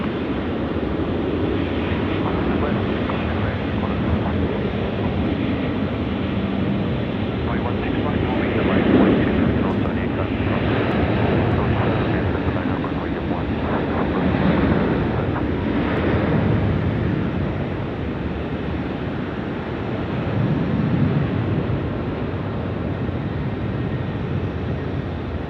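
Qantas jet taking off at night from Sydney Airport, a loud, continuous engine roar that swells and fades slightly over the whole stretch, with people talking over it.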